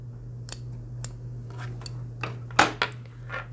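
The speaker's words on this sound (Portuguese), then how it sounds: "eu vou cortar o fio." Scissors cut crochet yarn while finishing a crochet bag strap: a handful of short, crisp snips at irregular intervals, the loudest near the end, over a constant low electrical hum.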